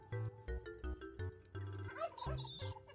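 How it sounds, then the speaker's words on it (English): Turkeys gobble in Minecraft Hexxit II, several short bursts of game animal calls in a choppy rhythm over steady background game music, fairly close and clear. "I'll let the turkeys live."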